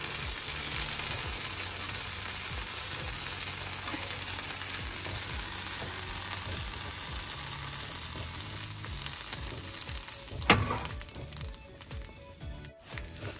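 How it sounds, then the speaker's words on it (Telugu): Chillies frying in oil crackle and sizzle densely and steadily up close, with a sharper scrape or clatter near the end and no one speaking. "కొంచెం ఆయిల్ వేసి వేయించుకోవాలి వీటిని"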